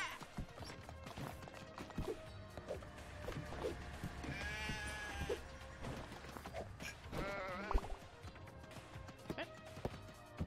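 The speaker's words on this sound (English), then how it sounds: "We gotta get the sheep." Sheep in the video game Moving Out bleat in wavering cries amid clattering, hoof-like footsteps and game sounds, with voices talking faintly underneath.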